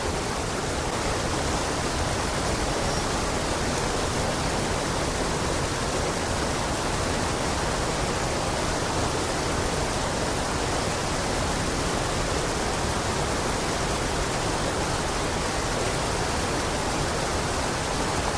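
Rushing water pours in a steady, dense roar that never lets up, like a waterfall heard from nearby with no other sounds.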